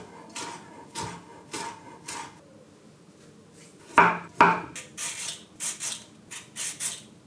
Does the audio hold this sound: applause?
no